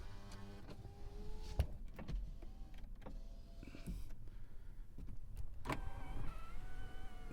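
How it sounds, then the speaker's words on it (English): The power windows of a Toyota 4Runner whir up and down in several short, close motor runs, with thumps and clicks as each stops, in a quiet cabin and with no talking. "We're not going to bring the windows all the way up and down, but you'll see they function as they should."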